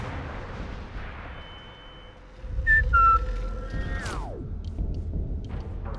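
Whistling in the video game Sniper Elite 5: a few short whistled notes and a long falling glide rise clearly over a low, rumbling game ambience.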